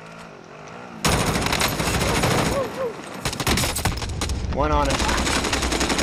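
A machine gun fires long, dense automatic bursts in Call of Duty: Warzone, loud and close, layered with other gunfire and chaotic battle noise, while a player speaks briefly over it.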